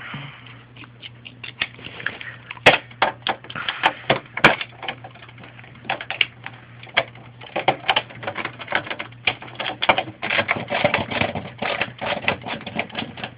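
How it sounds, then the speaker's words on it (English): A ratcheting screwdriver with a T10 Torx bit backs screws out of an Xbox 360 console, giving a steady run of close, crisp clicking ratchet ticks with a few sharper knocks, fairly loud and with no talking. "Gotta love ratcheting screwdrivers."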